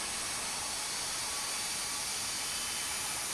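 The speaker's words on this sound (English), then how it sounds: "I love that noise of the 777 in the background," A Boeing 777's engines in the Tower! Simulator 3 game give off a steady whirring whistle with broad hiss, continuous and fairly distant in the background, with no talk over it.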